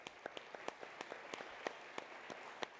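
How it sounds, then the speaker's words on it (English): A luncheon audience gives faint, sparse applause, a handful of distinct claps scattered over a soft room wash, heard from a distance. "so please give them a round of applause."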